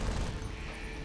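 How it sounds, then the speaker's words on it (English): Rapid assault rifle fire from guards in a first-person shooter, dense overlapping bursts running continuously as a loud, close barrage with no pauses. "Too many people are shooting me."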